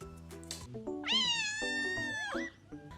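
A kitten gives one clear, drawn-out meow, rising and then falling, close and fairly soft, with light household noises before and after it.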